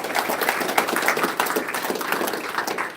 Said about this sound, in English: Everyone give Gavin a round of applause.